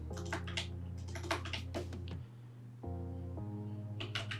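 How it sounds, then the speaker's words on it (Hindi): Fast bursts of computer keyboard typing, close and fairly quiet, come in clustered clicks with short pauses over a faint steady hum. "तो मैं यहाँ पे जाऊँगा चैट जीपीटी के अंदर और यहाँ पे मैं टाइप करूँगा"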